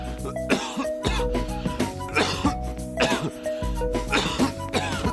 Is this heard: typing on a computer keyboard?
no